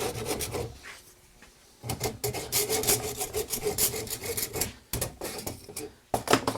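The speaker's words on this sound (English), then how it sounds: "Do the cheese grater on it." Cheese grater rasp rounding over a wooden edge: close, harsh scraping strokes in uneven bursts, with a short pause between passes and a quieter stretch at the start.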